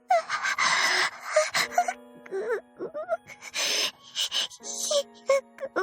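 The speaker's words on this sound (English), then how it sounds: "Tsujidou's voice pitches upward as she moans" A woman moans in Tsujidou-san no Jun'ai Road, her voice rising in pitch through a run of breathy, wavering wails and gasps, close and fairly loud, with short pauses between.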